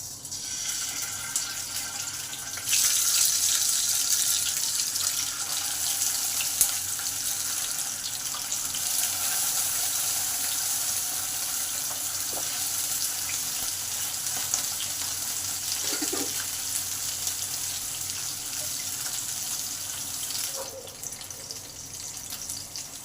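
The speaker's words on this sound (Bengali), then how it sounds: "তেল গরম হয়ে গেলে মাছগুলোকে ভেজে নেব।" Bata fish fry in hot oil in a pan over low to medium heat, giving a steady, close hiss and sizzle that continues throughout with small crackling flare-ups.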